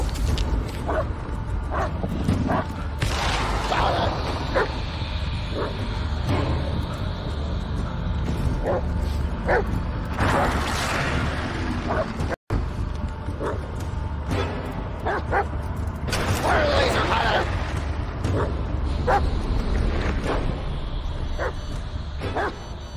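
A dog in the video game Blair Witch barks and yips in scattered bursts, with whimpering between them, over a continuous low rumbling background.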